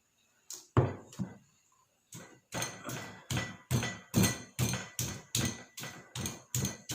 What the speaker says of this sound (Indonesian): Ini juga kita giling sampai halus